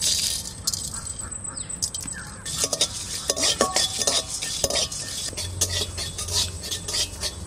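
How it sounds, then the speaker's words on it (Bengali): Dried red chillies, cumin, coriander seeds and a bay leaf are dry-roasted in a pan. A spatula scrapes and clatters against the metal in quick, irregular strokes, close and fairly loud, with no voices. "ভাজা মশলা বানাবো, শুকনো লঙ্কা,"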